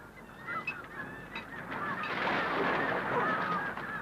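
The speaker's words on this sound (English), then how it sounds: "every gull within miles around comes for a share of the picking" Gulls flock around a fishing trawler at sea while the catch is picked, filling the air with a dense, overlapping chorus of squawks and cries that builds louder toward the end.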